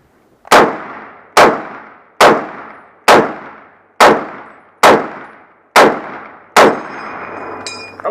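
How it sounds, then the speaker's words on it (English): An M1 Garand rifle fires eight evenly spaced, loud shots about 0.8 seconds apart at a demonstration, each a sharp crack with a ringing decay, ending in a high metallic ping. "So Mr. Fraser right now is going to demonstrate the M1 Garand."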